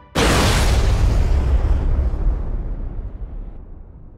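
A wing of a palace blows up in one loud, sudden boom that rolls on as a long rumbling roar and slowly fades over several seconds.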